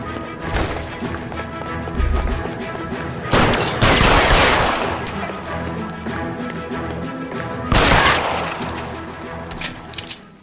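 Gunfire in L.A. Noire during a street holdup scene, with a few loud bursts of shots standing out over a busy ambient background, spaced a few seconds apart.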